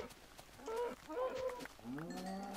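Cows in Minecraft with the Better Than Wolves mod, several low drawn-out moos one after another, close and clear over faint background noise.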